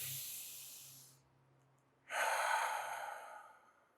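Slow, controlled breaths during a seated chair yoga exercise, a long airy exhale fading out, a brief pause, then a strong breath that tapers off, close and without talk.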